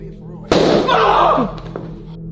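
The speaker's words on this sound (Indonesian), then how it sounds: "Tiba-tiba terdengar bunyi ledakan." A sudden loud explosive bang bursts out, followed by a roaring rumble that trails off after about a second over a low background hum.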